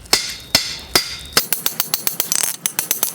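Hammer blows ring on hot metal against an anvil while a hinge is forged, four slow, loud strikes followed by a quicker run of lighter, rapid taps.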